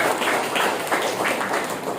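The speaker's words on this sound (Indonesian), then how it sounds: "Sekali lagi tepuk tangan untuk desa Temiang Sari." An audience at a village council meeting for Temiangsari claps in steady, dense applause, moderately loud throughout the moment.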